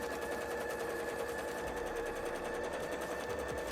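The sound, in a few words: sewing machine sewing the bottom part of a bra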